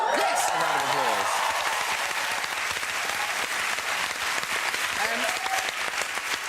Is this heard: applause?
yes